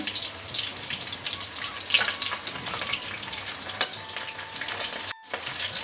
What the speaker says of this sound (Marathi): मिरची डाग पडेपर्यंत भाजायची, लसूण लाल होईपर्यंत.